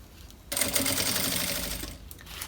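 A sewing machine runs in one continuous burst of about a second and a half, stitching a zipper onto a fabric pencil case, close and loud, then stops with no speech.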